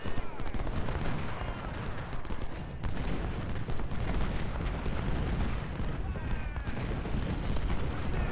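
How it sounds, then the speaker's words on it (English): Artillery and cannon fire in the Civil War strategy game Ultimate General: Civil War, a dense, continuous battle din of booming and rattling gunfire, loud and unbroken across the whole stretch with no talk over it. "We do have artillery fire actually able to do something for a change for us as well."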